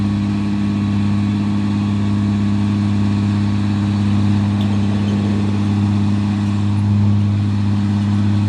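A Hino trailer truck engine runs at a steady low rumble, idling evenly and fairly loud for the whole stretch with no talk over it.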